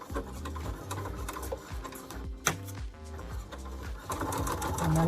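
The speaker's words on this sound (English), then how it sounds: "I'm just going to sew at 3/8 of an inch" A sewing machine stitching fabric at a 3/8-inch seam, a steady close mechanical whir with fast ticking needle strokes, running continuously and getting slightly louder toward the end.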